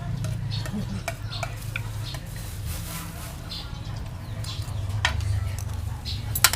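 A utensil stirs stir-fried frog with holy basil in a pan in a home kitchen, giving repeated scraping and clinking strokes over a low sizzle, with people talking and background noise.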